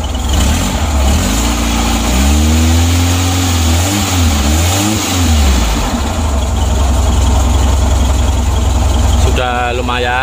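An engine with misfiring, a weak spark plug and a stalling fault rumbles, then is revved in several rising and falling surges before settling back to a rough idle, loud and close throughout.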